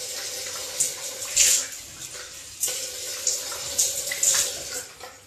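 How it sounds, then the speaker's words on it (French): Tap water runs into a bathroom sink while a mouth is rinsed after brushing teeth, a steady close splashing flow broken by a few louder gushes and swishes, with no voices. "on rince"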